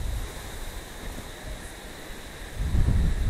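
Wind blows outside a French castle, a steady rushing and buffeting against the microphone that swells into a louder gust near the end.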